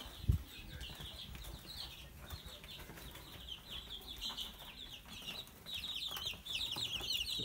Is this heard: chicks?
yes